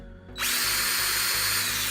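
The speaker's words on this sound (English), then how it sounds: "drilling the 3 holes in the engine using a 16th inch drill bit" A small 1/16 inch drill bit bores holes into a miniature model engine for an X-Wing Jumpmaster 5000 LED modification, a steady high-pitched whine that spins up after a quiet moment and holds, close and alone.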